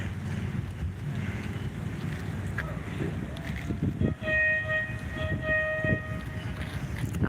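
Small mini train ride approaching along a waterfront in Geelong, Australia: a low, rolling rumble that builds slowly under steady wind buffeting, with a few faint ringing tones near the end.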